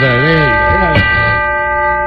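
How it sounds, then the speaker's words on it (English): A chime sound effect rings out on a radio show, a clear bell-like tone with a sustained ringing decay, after a warbling, sliding tone at the start; no talking is heard over it. "give me a chime"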